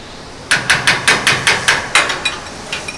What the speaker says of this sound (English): I gotta knock it out with a hammer